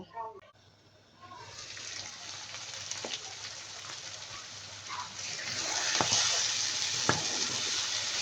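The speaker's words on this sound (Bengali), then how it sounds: "ঢাকনা দিয়ে ঢেকে মগজ রান্না করে নেব" Beef brain cooking in a covered pan with green chilies, a soft sizzle that swells louder partway through, with a few faint clicks and a voice speaking over it.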